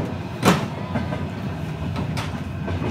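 A passenger train runs on rails with a steady loud rumble and faint clickety-clack, plus a sharp knock near the start, heard from inside a carriage.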